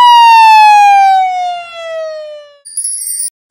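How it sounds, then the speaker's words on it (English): An ambulance siren sounds a single loud, sustained wail that slowly falls in pitch and fades over about two and a half seconds. A brief electronic chime follows after a short gap. "Ambulance."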